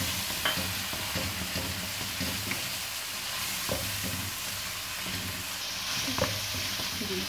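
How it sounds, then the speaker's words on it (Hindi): Ginger garlic paste sizzling and frying in a pan, a steady close crackle with occasional stirring scrapes throughout, no voices. "अब अदरक लहसुन भी डाल देंगे, उसको भी 1-8 मिनट भून के अच्छी तरह"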